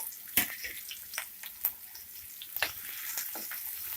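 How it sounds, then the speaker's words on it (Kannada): Onions frying in a pan for egg rice give a soft, steady sizzle with a few sharp clicks and scrapes of stirring, close and fairly quiet, with no talking. "ಈರುಳ್ಳಿ ಕಲರ್ ಚೇಂಜ್ ಆಗೋವರೆಗೂ ಫ್ರೈ ಮಾಡ್ಕೊಂಡಿದ್ದೀನಿ ನಾನು"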